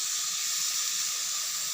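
Soaked dried prawns hit a hot pan of spiced masala and give a steady, soft sizzling hiss that stays even for the whole moment, with no talking.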